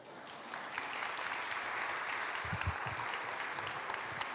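A church congregation applauds steadily throughout, a dense even patter of many hands heard from within the hall, with a few louder thuds midway.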